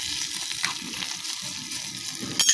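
Potatoes frying in a pan and being stirred, a steady soft sizzle with faint scraping, fairly quiet and close, ending with a sharper clatter.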